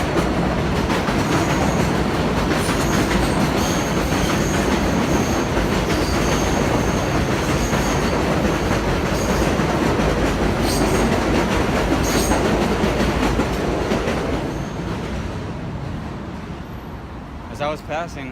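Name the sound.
train passing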